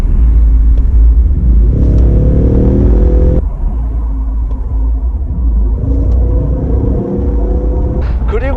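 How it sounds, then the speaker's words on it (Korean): A 2021 Ford Mustang coupe's 2.3L four-cylinder EcoBoost engine accelerates from steady cruising. The engine note rises in pitch, drops at a shift, then climbs again as a loud, close interior rumble with no talk over it. "이렇게 정속 주행을 하다가 갑자기 이렇게 가속을 하면 RPM이 올라가는데 딜레이가 좀 있어요"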